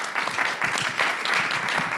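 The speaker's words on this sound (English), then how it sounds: "let's have a round of applause for the panel members." An audience at an ICRA 2024 robotics panel session in Yokohama applauds the panel members, a steady burst of clapping from many hands throughout, filling the hall evenly.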